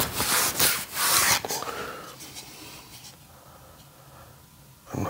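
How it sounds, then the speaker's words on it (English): A vinyl plank flooring sample is wiped off by hand, producing several loud, rough rubbing strokes near the mic early on, then quieter faint handling. "I'm gonna wipe this off just to be sure."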